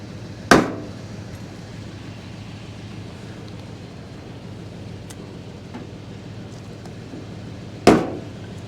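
A hammer strikes a board twice during front-end bodywork on a 1983 Ford F150 bullnose, each blow a sharp, loud, close crack with about seven seconds of quiet between them.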